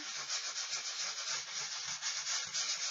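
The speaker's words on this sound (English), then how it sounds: "just very carefully sand down around the image if you don't like that." Sandpaper lightly sanding wood around a burned image made with a woodburning scorch marker, giving a steady, close, soft rasping rub with gently pulsing strokes and no talk.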